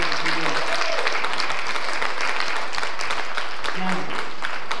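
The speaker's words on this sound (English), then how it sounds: "Give a little hand clap if you did." Hands clap together across a church congregation at Agape Christian Center, a continuous, fairly loud patter of applause with a few faint voices mixed in underneath.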